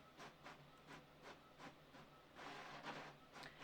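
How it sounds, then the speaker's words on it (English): An office printer runs through a print job, a quiet train of rhythmic mechanical passes roughly every half second, faint and close in an otherwise still room. "bear with me while the printer just prints those out."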